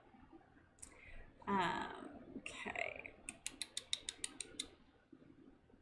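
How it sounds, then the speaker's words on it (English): A loud computer keyboard clatters in a quick run of about a dozen sharp, evenly spaced clicks, close by, after a few spoken words. "You're about to hear me type very loud."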